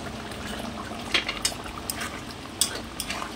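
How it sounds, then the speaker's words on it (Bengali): Chicken cooking in a blackened iron wok, a soft continuous sizzle and bubbling with a few scattered clinks of a spoon scraping the pan, close and moderately quiet. "দেখো লোহার কড়াই রান্না করছি।"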